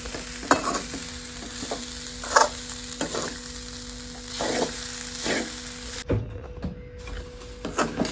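Grated coconut dry-roasting in a pan while a spoon stirs it, giving repeated scraping strokes over a soft steady sizzle with a brief quieter break near the end, no talking.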